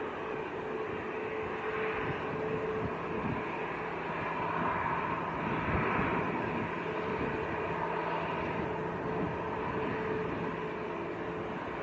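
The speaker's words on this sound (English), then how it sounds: "More planes coming across" Planes passing over Manchester airport, including Aer Lingus, Logan Air and EasyJet jets on the south side, give a steady, broad roar that swells slightly midway and holds for the whole stretch, with no talk.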